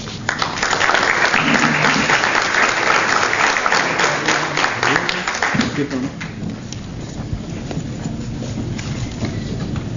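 A crowd applauding loudly and steadily at a professional conference in Córdoba, the clapping fading slightly toward the end as background murmur continues.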